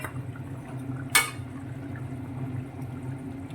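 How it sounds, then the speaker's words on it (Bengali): Fried rohu fish pieces drop into curry gravy simmering in a pan, landing as one short sharp splash and clatter over a steady low bubbling hiss that carries on afterward. "এবার আমি এই যে ভাজা মাছগুলো সব দিয়ে দেবো এর মধ্যে।"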